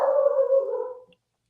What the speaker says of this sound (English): I hear my dog